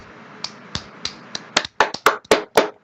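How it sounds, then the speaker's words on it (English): A single person's hands clapping, starting with a few slow, spaced claps, then speeding into a quicker run of sharper, louder claps, close and alone with no talk. "They deserve a hand clap."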